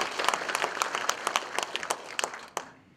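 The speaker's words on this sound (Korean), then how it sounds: "큰 박수 주십시오." An audience gives a guest speaker at a civic academy event a round of applause, a dense burst of clapping from a moderately near crowd that carries on steadily and then trails away at the end.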